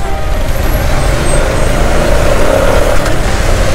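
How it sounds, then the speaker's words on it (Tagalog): Heavy road traffic of trucks and buses on a highway at night, a loud constant low engine rumble and road roar close by, with a faint hiss of air brakes through the middle, and no voices. "Medyo traffic ngayon dito guys."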